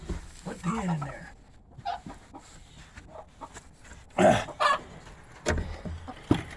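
A broody hen clucks in a small pen in short, close bursts, interspersed with quiet rustling and handling noises.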